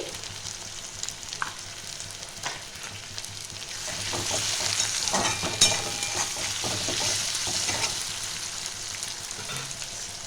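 Chopped tomato and salt frying in a pot for khichuri, a steady hiss and sizzle with scraping spatula strokes and occasional clinks against the pan, close and continuous, swelling louder midway, with no talking.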